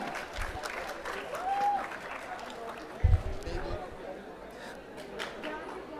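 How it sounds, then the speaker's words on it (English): Faint, diffuse applause from an auditorium audience at a business conclave, greeting a panel, with voices and chatter running over it and one brief thump partway through. "Can we have a huge round of applause for the panel that's just gracing the auditorium"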